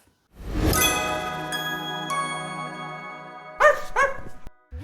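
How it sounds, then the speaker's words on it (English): A dog barks on command up close, one long drawn-out howling bark followed by two quick sharp barks, loud and alone. "When my dog barks on command"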